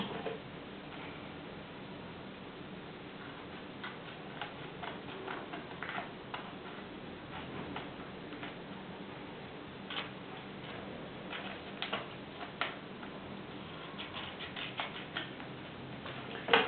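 Scissors snip paper close by while making a paper ninja star, a series of faint, irregular crisp cuts and rustles over a quiet background.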